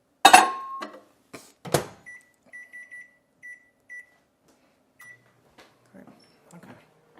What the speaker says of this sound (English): All right, so in the microwave one more time.